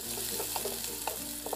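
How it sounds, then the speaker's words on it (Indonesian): Chili peppers frying and being stirred in a pan while cooking chicken, with a steady close sizzle and a few soft scraping stir strokes, no talking. "Cabenya ini kita goreng sampai sedikit layu."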